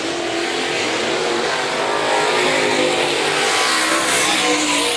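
Late model race cars roar around the Raceway Park oval during a heat race near the end, a dense, loud, continuous engine drone with steady revving and no voices.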